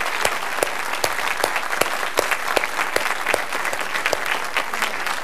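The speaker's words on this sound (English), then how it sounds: "big round of applause" An audience applauds with crisp, individually distinct claps in a fairly steady rhythm, a moderate-sized crowd clapping alone without talk.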